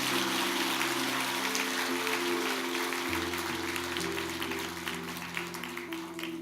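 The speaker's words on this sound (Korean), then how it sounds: "우리 권사님 인사하실 때 우리 다시 한번 큰 박수 부탁드리겠습니다" Applause rises from a church congregation as a retiring deaconess bows, dense clapping layered over held organ notes, thinning slightly toward the end.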